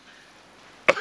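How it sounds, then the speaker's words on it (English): A single short, sharp cough bursts out close by after near silence, from a man delivering South Africa's 2013 budget speech in parliament. "forgive me for coughing every now and again"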